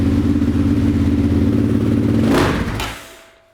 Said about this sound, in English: So I'm gonna start it again on choke, and then we're just gonna give it some gas, see what it does.